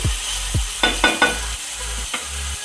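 Green chillies and other ingredients for a spicy chicken curry frying in a pan, with a steady low sizzle broken by several scraping stirs of a utensil against the pan, close and fairly loud.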